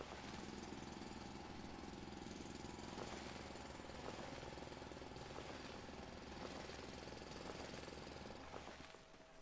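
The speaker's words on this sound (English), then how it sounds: "let's make some drill noises" Assembler drills in the factory game Foundry run as a continuous mechanical rattle and hum, steady and dense, with faint rhythmic clicks throughout and no voices.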